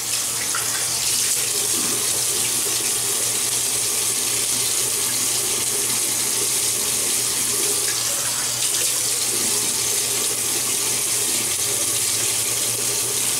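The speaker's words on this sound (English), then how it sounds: "so let me wet the face." Tap water runs steadily from a faucet into a sink to wet the face before shaving, a continuous close hiss and splash lasting throughout with no speech.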